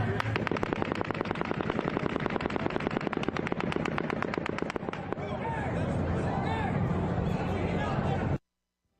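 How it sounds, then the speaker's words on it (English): Rapid bursts of automatic gunfire from Mandalay Bay, Las Vegas, crackle in a dense, echoing volley, then give way to a rolling wash of reverberation and distant noise before cutting off. "the 12th and final volley of automatic gunfire from Mandalay Bay begins"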